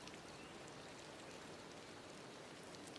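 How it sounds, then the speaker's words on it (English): Rain falls in the Disney Dreamlight Valley video game, a steady, soft, even hiss of rainfall with faint scattered drop patter and no voices. "It's always raining when I choose to decorate."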